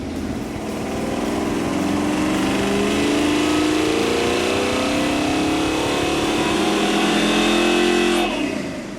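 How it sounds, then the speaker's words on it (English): A small block V8 from a 1982 Camaro revs steadily on a dyno during a pull, a loud sustained roar climbing in pitch over several seconds and then cutting off sharply near the end. "After several timing adjustments, this little small block was making 383 horsepower, 435 foot-pounds of torque"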